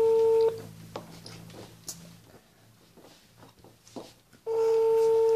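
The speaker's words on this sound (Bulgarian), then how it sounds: "Набираме друг номер." Telephone keypad tones, with a steady tone bursts at the start and end and quieter clicks and beeps between, as a number is dialed on a phone, heard close and clear without talk.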